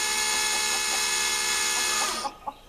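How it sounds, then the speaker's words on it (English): A noisy electric water pump on a garden rain barrel system hums steadily and loudly with no talk, then shuts off near the end, leaving a few faint bird sounds. "I've turned the pump off because it is a bit noisy"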